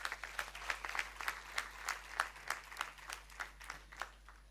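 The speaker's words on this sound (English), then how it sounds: "Please give them a clap" Sparse, faint clapping at a college graduation day ceremony, a handful of distinct claps in a loose steady rhythm over a low background hum.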